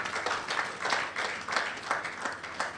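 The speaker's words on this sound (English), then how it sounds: "Please give them a round of applause" An audience at an NSMQ 2022 launch ceremony gives a round of applause for winning schools, a steady patter of many hands clapping, moderately distant and fairly quiet, with no talk over it.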